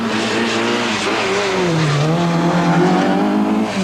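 A Mitsubishi Galant rally car at the 1989 Circuit of Ireland rally races along wet roads, its engine revving and rising in pitch as it passes close and loud, with tyre hiss and spray underneath.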